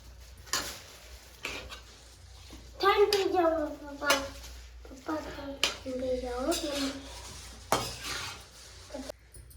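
Chow mein noodles with rice are stirred and tossed in a pan, with clattering utensil scrapes and pan knocks; a voice talks through much of it.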